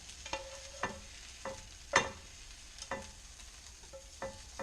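Fork stirring and scooping food in a bowl at home: a handful of soft clinks and scrapes spaced irregularly, fairly quiet and close, with no talking.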